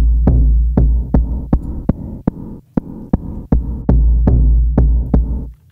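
A VISCO drum machine plays a steady groove through stereo fuzz and diffuser effects: loud, regular thumping hits with a thick droning low end and a brief drop-out in the middle, no voices.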